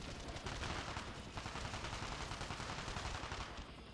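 Rapid, dense automatic gunfire from Call of Duty: Black Ops Declassified, a continuous loud burst of shots lasting several seconds with no talk over it.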